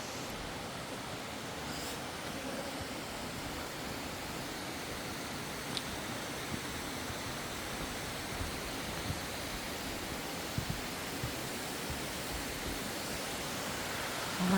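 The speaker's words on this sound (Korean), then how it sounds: "그 계곡 물줄기가 동굴 사이로 흐른다고 합니다." Valley stream water flows through the Stopića limestone cave in Serbia, a steady, moderately quiet rushing hiss that stays even and unbroken throughout.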